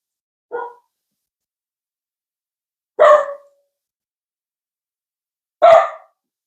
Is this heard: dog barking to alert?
yes